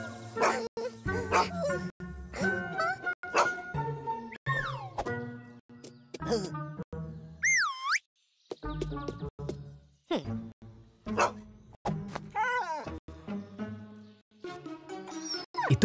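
Short cartoon dog barks and yips are heard in bursts amid constant narration and sound effects, as an angry dog chases two friends who climb over a fence.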